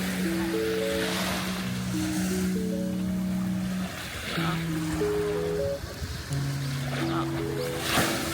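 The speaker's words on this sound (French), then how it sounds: "le bruit des vagues" Ocean waves washing onto a beach on Koh Lanta, Thailand, a steady wash of surf with swells rising and falling every few seconds, while a low melodic hum of music runs underneath.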